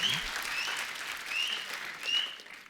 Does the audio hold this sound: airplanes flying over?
no